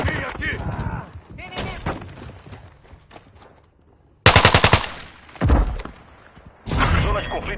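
Gunfire in the multiplayer video game Call of Duty: Modern Warfare 2 comes in loud automatic bursts and single shots, with quieter stretches between, mixed with spoken game announcer lines.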